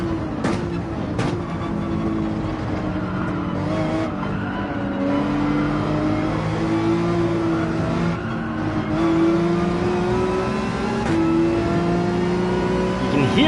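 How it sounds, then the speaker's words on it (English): Mercedes-AMG race car engine in the Gran Turismo 7 racing game at Spa, a steady droning, revving engine note with rising and shifting pitch and brief tire squeal, loud and continuous throughout. "You can hear the AMG behind us."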